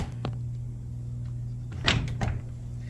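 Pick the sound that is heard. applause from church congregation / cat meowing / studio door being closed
studio door being closed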